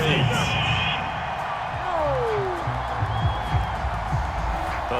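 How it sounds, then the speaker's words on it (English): A stadium crowd in a Madden NFL video game booing a penalty flag, a broad sustained jeer heard under a commentator's talking. "Well, the crowd doesn't like that."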